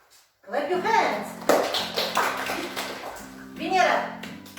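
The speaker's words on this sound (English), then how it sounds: "Clap your hands." Children clap their hands during a seventh-grade extracurricular classroom event, a scattering of light claps mixed under an adult speaking.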